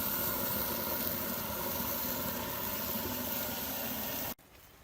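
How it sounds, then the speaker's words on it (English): Garlic sausage and venison steaks sizzle on an outdoor griddle at a deer camp, a continuous loud hissing crackle that stops abruptly near the end. "I'm out here enjoying the sizzle."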